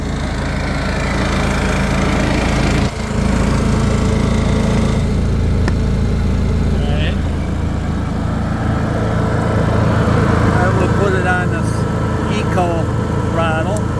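A Honda EU7000is RV generator hums steadily from close behind the unit, a constant low engine drone with a brief dip near the start, while someone talks over it.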